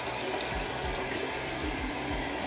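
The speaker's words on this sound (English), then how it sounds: "So, run the cold water, or the hot, or a mix of both, it doesn't really matter" Water runs steadily from a sink tap as a toothbrush is rinsed under it. The gushing is loud, even and close, with a low rumble underneath and no talk.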